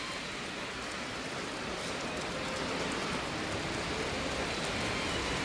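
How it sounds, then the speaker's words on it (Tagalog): Steady rain falls in a park in Almaty, Kazakhstan, a dense, even hiss of drops on surfaces that holds at constant loudness throughout with no talk. "oh, umuulan."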